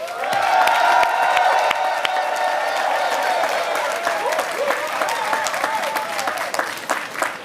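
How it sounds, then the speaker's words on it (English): Thunderous crowd applause at a West Indian American and Caribbean American gathering, loud and sustained with scattered cheers and whoops, a whistle-like call rising above the clapping, and voices mingling in the crowd before it gradually thins. "I want to ask instead for a really thunderous applause to remember Bill Howard"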